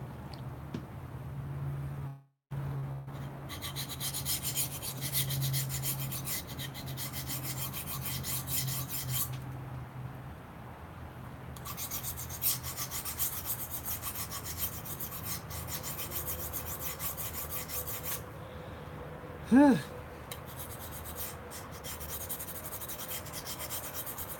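A knife blade of abrasion-resistant steel is sharpened with long, steady rasping strokes in several sustained bursts separated by short pauses, close and clear, with one sharp knock near the end.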